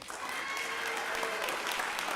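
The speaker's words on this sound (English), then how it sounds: "Let's give it a round of applause" A crowd applauding steadily at a Temple Sinai service in Houston, dense clapping at even strength for a couple of seconds.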